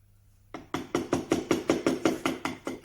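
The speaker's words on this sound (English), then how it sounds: "Little taps, bring the chisel out for that thin part there" A mallet taps a chisel while letters are carved into an oak bread board, producing a steady run of about a dozen evenly spaced, close, crisp knocks after a brief quiet start.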